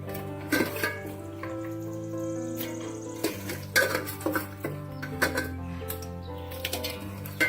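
Spoon scraping and clinking against a bowl as chicken gets mixed with salt, ghee and oil, irregular close stirring knocks over a soft background.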